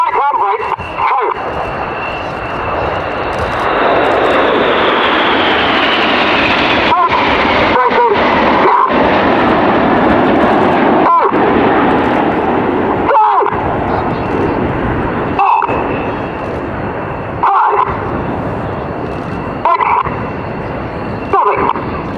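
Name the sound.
Red Arrows jets performing sequential break at air show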